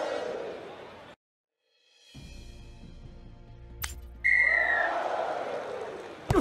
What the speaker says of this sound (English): Blow of the whistle from the referee, and we're underway again at the start of the second half.